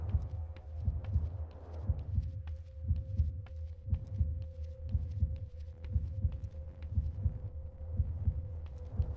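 Heartbeat effect from the video game Manhunt: a steady, deep thumping pulse repeating throughout, loud and close, over a faint constant tone and low hum.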